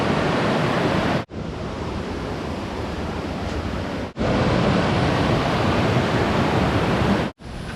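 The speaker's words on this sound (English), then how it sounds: "I'll show you the waterfall to end the video with." Yuanjue Falls, a waterfall on a hiking trail, roars as a steady, loud broadband rush of falling water, broken only by brief cuts in the sound.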